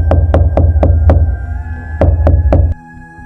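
Knuckles rap on a wooden door in two loud, close bursts: a quick series of five knocks, a pause, then four more, over a low background hum.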